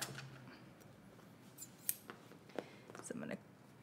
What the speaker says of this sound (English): I'm gonna use my scissors so that I don't cut too far into this